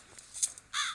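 A crow in a samurai video game caws in a few short, scratchy calls at moderate volume, the last one louder and harsher, with no talking.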